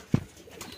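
A single short, soft pigeon coo sounds close by from a home pigeon loft, followed by faint rustling.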